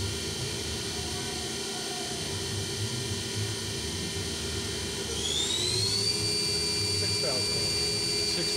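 A Daewoo Mynx 500 vertical machining center from 2000 runs its spindle at 4000 RPM, a steady high whine over low mechanical hum that climbs in pitch partway through.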